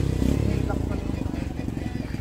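A motorcycle engine runs close by with a loud, rhythmic putter that settles into an even pulse, while people talk over it.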